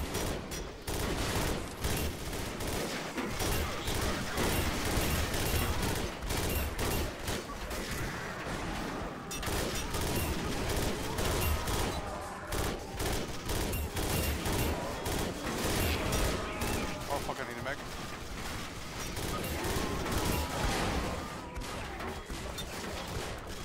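Dense, continuous video game gunfire in a shooting gallery, rapid volleys with crashes and mechanical clatter filling the whole stretch, loud and sustained with only brief dips.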